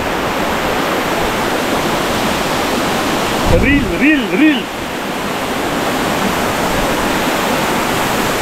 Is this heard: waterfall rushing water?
yes